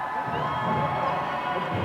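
A near-full gym crowd at a high school chocolate pudding wrestling event cheers and shouts in a steady, loud roar of mixed voices for a couple of seconds.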